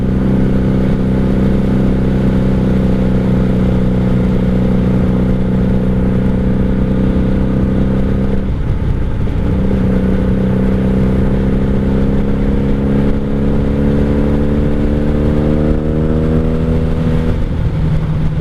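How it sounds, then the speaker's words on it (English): The V4 engine of a 1997 Honda Magna 750 motorcycle drones steadily and loudly up close, its tone dipping briefly midway and then climbing gradually as the revs rise, with no talk over it. "V4 muscle bike, guys. That's what this is, and it's a lot of fun."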